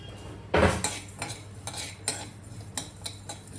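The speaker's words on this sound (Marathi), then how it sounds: "आता ह्याला आपल्याला हलकं ड्राय रोस्ट करून घ्यायचंय." Prawn masala spices and black pepper are dry roasted in a pan, heard as a series of close metallic scrapes and clinks from a stirring utensil, one sharp strike followed by lighter, evenly spaced scrapes.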